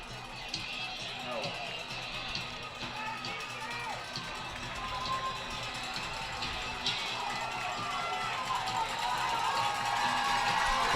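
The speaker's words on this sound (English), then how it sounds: "So the Neenah crowd getting alive here" A Neenah home crowd at a high school football game against Muskego rises in a broad, sustained roar of cheering that swells toward the end, with commentators talking over it.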